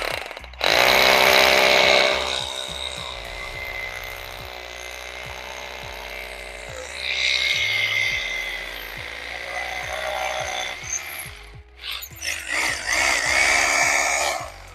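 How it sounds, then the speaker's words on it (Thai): A PUMPKIN H2-26 DFR rotary hammer drills into a 3-inch concrete post with a loud, steady pounding roar, easing off midway, surging again, then stuttering to a stop before restarting. "ครั้งนี้นะผมจะทดสอบเจาะเสาขนาด 3 นิ้วให้ดูนะครับ"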